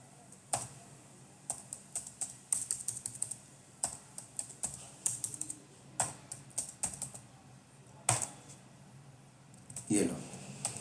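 Bursts of computer keyboard typing as a short program is entered in Notepad, irregular clusters of close, crisp key clicks with brief pauses between them and a louder flurry near the end.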